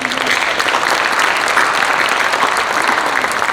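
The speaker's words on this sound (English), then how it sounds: "So how about joining me in one final big round of applause for our panel?" A conference audience at an army sustainment panel breaks into a final round of applause, a continuous wash of many hands clapping at steady, fairly loud volume throughout.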